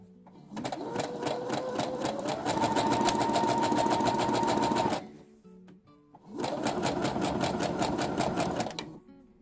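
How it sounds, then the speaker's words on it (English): Two steady runs of a sewing machine edge stitching a sleeve band, the motor whirring close and clear, rising in pitch partway through the first run, with a short pause between the runs. "So just keep pushing the seam allowance up and out of the way and edge stitch your band down."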